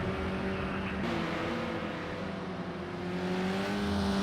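Race cars on a racing-game track at Sugo in Project Cars 2, their engines droning steadily with shifting harmonic whine as several cars run in the field, a continuous loud motor roar with no talk.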